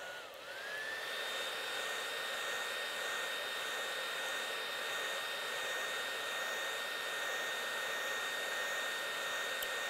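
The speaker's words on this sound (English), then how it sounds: "to speed up the drying time, I usually use a hairdryer" A hair dryer whirs steadily with a high motor whine, running continuously and fairly quietly throughout, drying a coating on archery arrows.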